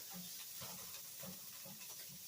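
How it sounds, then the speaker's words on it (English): A soft, steady hiss of garlic sizzling in a frying pan runs throughout, with faint irregular crackles and bubbling pops, quiet and close. "As you can hear the sizzle"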